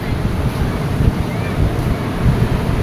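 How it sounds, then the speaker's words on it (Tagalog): Waves rolling in at a seashore near a fishing village, a continuous loud rumble of surf mixed with heavy wind buffeting the microphone, with no speech. "bantayan nyo mga bata, may alon"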